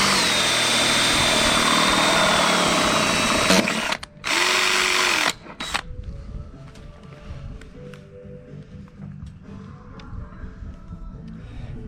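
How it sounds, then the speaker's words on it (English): A power drill whines steadily while boring a hole for wiring through the body of a school bus during an awning installation, then briefly stops and restarts before cutting out, leaving quiet handling noises. "We've got our hole drilled for our wire"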